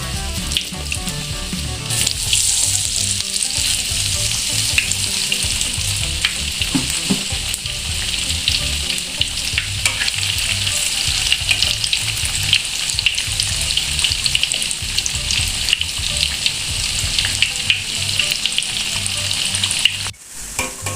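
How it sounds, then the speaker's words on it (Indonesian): Tempeh sliced into hot cooking oil fries half-done with a loud, dense sizzle that holds steady for about twenty seconds before cutting off abruptly, with no voices. "Langsung kita goreng tempenya."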